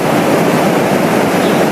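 Muddy, rain-swollen water pours from a waterfall at Lohas Park in Hong Kong, a loud, steady, unbroken rush that fills the whole moment with no voices.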